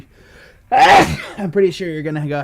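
A single loud, sharp sneeze bursts out close to a microphone, followed right away by a person talking.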